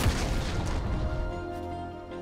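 Gangplank's Death's Daughter cannon ultimate in League of Legends fires with a heavy booming blast that decays into a rumbling tail, alone with no voices.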